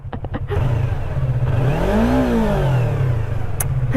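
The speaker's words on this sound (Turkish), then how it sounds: "Şu an benim motorun sesi duyuluyor." A Yamaha MT-09 motorcycle engine revs up and then settles, its pitch rising and falling over a steady, loud rumble, with a few sharp pops near the start.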